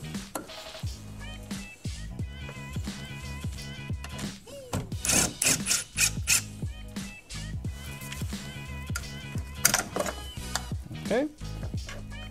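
A ratchet loosens the negative battery terminal nut on a 2015 Mazda 6, with a series of close, irregular clicking strokes amid clanks and handling noise, and a brief word spoken.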